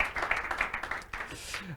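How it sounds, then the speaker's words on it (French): Brief applause from an audience at a startup incubator's promotion launch event greets a newly introduced guest. The clapping is short and close, overlapping with a voice. "On peut l'applaudir."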